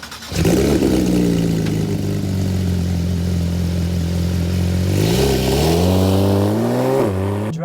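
Porsche 911 GT3 RS track car at speed with no sound deadening, a loud sustained engine drone climbing steadily in pitch under acceleration, with a brief lift near the end before it pulls again.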